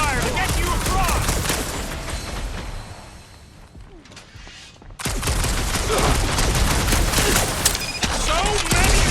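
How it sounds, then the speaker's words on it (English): Cover fire from the Guardians of the Galaxy video game: dense, rapid gunfire bursts that are loud and close. The shooting dips to a quieter lull for a moment, then comes back as a sustained barrage. "I'll lay down some cover fire to get you across!"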